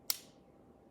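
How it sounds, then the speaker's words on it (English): A single sharp click from the short reach trigger of a Sig MK25 pistol being pulled, crisp and close, followed by quiet. "So there's my trigger pull."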